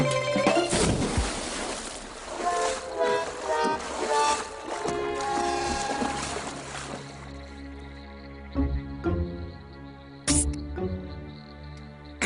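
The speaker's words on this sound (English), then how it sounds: "I can hear splashing." Water splashes in a lake in a few short bursts near the start, set against a steady musical background that carries on after the splashing fades.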